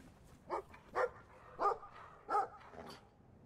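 A dog in the video game Brothers: A Tale of Two Sons gives four or five sharp, moderately loud barks, each about half a second apart.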